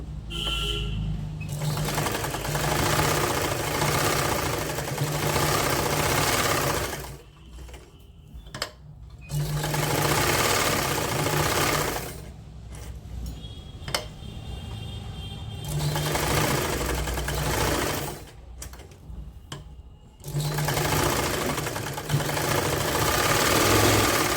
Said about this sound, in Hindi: अब दूसरी सॉक्स की भी हमने इसी तरह सिलाई कर लेनी है।